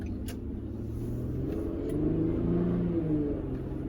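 An Infiniti G37 S engine pulls at half throttle through an automatic gearbox, a steady low rumble that rises in pitch and swells slightly louder midway, heard from inside the car without talk.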